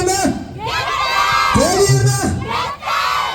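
A large crowd of university students from the hill-country community roars and shouts together at a Pongal festival in Jaffna, loud, sustained cheering with high children-like whoops rising and falling in waves.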